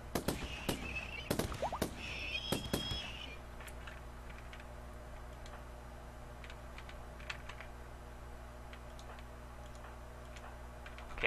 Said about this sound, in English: everybody's still shooting at this other guy